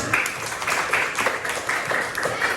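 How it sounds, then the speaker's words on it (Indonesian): Classmates in a junior high Indonesian-language lesson applaud a student, a steady, moderately loud patter of many hands clapping in a classroom, continuing evenly for a few seconds with no talk over it. "Kita beri tepuk tangan untuk Ana."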